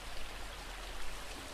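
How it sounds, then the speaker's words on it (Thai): Steady rushing water of a small waterfall in a calm outdoor sitting spot, a faint, even broadband wash that runs continuously with no voices. "เพียงแต่อยากนั่งแล้วมีเสียงน้ำตกที่มันแบบ"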